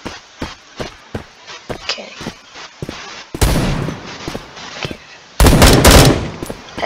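Bursts of automatic gunfire in the video game Bullet Force, with sharp rapid single shots early on and then two dense, loud sustained volleys, close and dominant.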